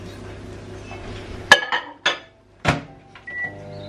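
A microwave oven heating stuffed peppers hums faintly before a loud beep-like click and several sharp clinks and clunks of the door and dishes, spaced irregularly, with soft kitchen background.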